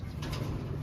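Racing pigeon coos softly and steadily at close range, low rolling murmurs throughout with faint background hiss and no talk.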